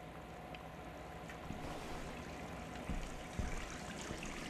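Steady running water in the video game Gone Home, a continuous soft trickling wash that stays at an even level throughout, with a few faint thumps over it and no talking.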